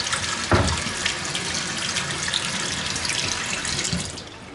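Water runs steadily from a faucet in an apartment unit and drains away, a continuous broad rushing hiss with a brief splash near the start, fairly close and alone without talk.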